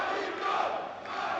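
A large crowd cheers and roars at a junior powerlifting world championship, the broad wash of voices echoing across the venue, sustained and fairly distant.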